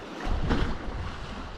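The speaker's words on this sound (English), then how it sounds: "Creates this wonderful sound of it washing against the shore" Soft surf rushes and swells against the shore of the Sound of Mull under a slight swell, with a steady wash of wind noise, one wave surging a little louder before settling.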